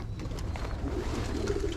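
Pigeons coo softly and repeatedly inside a converted carport loft, a low murmuring chorus of several birds close by with faint shuffling in the background.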